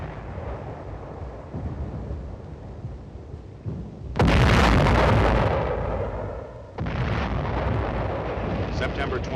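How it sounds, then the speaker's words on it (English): Heavy air and artillery fire bombarding enemy positions on Old Baldy during the Korean War, a loud rumbling barrage with a sudden intense blast midway, continuous booming throughout. "Heavy air and artillery fire was immediately focused on the enemy."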